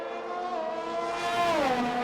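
A race car drives on a drying circuit after a switch to soft tyres, its engine a steady, loud drone that rises and then dips in pitch, heard alone.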